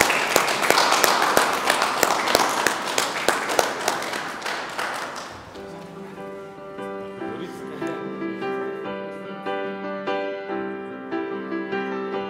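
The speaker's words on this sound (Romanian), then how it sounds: "Haideți să aplaudăm familia Gavrilescu." Applause for the newlyweds Oana and Valentin, the Gavrilescu family, fills a civil wedding ceremony: dense, steady clapping from a room full of guests for about five seconds, then it gives way to music.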